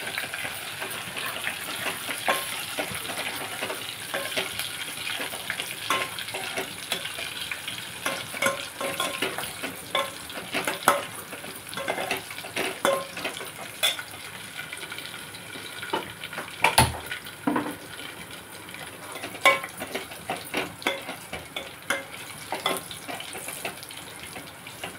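Garlic for a tempering fries in hot oil in a pan, a steady crackling sizzle with scraping stirs and occasional clinks running throughout at moderate loudness.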